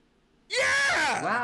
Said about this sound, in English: can you stop screaming for like 3 seconds?